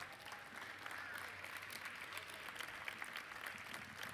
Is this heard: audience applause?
yes